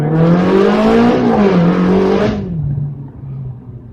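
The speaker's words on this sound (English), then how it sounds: "let's downshift a few gears, go into first, and give this car a bit of acceleration" Ferrari 360 Challenge Stradale revving hard in a low gear, a loud rising engine note that climbs and dips through a shift before dropping to a quieter lower drone, close by with no talk.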